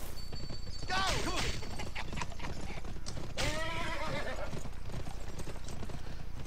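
A horse gallops with rapid rhythmic hoofbeats in the video game GUN, punctuated by two loud neighing whinnies, with a steady running clatter under the game's sounds.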